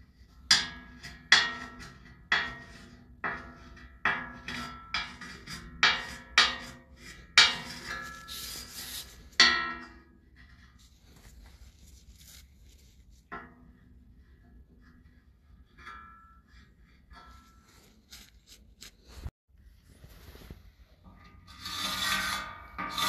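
A hand scraper rasps across wood to remove drips on a small decorative log rack for a private terrace, in about a dozen sharp, evenly spaced strokes, followed by quieter scraping and faint knocks.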